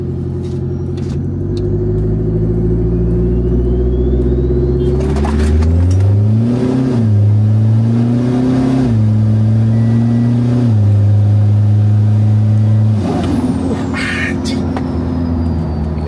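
A Toyota Innova's 1GD diesel engine, running a straight-pipe exhaust at a drag event, holds a loud, close, deep rumble, then climbs through stepped revs before dropping back to idle.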